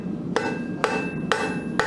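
A blacksmith's hammer strikes a metal bar being forged, four evenly spaced, ringing metallic blows with a bright lingering tone, close and loud with no talking.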